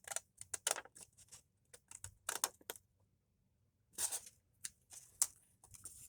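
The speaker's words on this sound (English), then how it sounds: "You're going to cut up to that center mark there, right on the fold line." 12x12 scrapbook paper being cut with scissors up to the fold line, close and quiet, a series of crisp snips and paper rustles arriving in bursts with short silent gaps.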